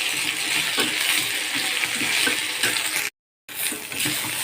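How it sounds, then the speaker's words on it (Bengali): Paste of boiled, ground kharkol leaves with salt sizzles steadily in a pan while being stirred, with scraping spoon strokes over a continuous hiss and a brief cut to silence near the end. "এবার ভালো করে নাড়িয়ে চাড়িয়ে ভেজে নিই।"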